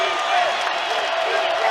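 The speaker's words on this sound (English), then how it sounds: "The crowd has come to life here at Gallagher-Iba." A basketball crowd cheering at Gallagher-Iba Arena during an Oklahoma State versus Baylor game, a loud dense roar of voices and whistles filling the whole moment.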